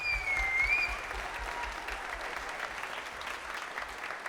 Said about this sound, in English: So one more clap for her, please.